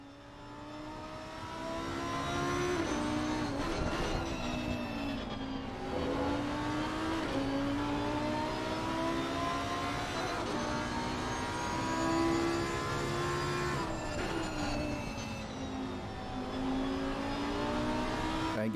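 Lamborghini race car engines at Brands Hatch in a racing video game, several cars roaring and revving close together, pitch rising and falling through gear changes and corners, loud and steady throughout with no talk.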